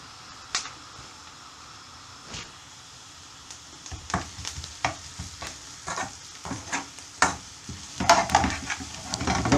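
Onions frying in a pan for a basic curry sauce, a steady sizzle with a run of spoon-and-pan scrapes and clacks that grows louder and busier from the midpoint, close and alone with no talk.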